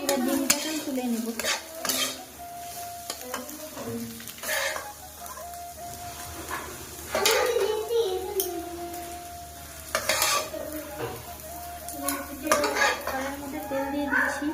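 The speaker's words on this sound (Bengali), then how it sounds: "এবার ডিমটাকে তুলে নেব।" A fried egg is scraped and lifted out of a pan in a village-style kitchen, with repeated metallic spatula clinks and scrapes against the cookware over a faint ongoing sizzle.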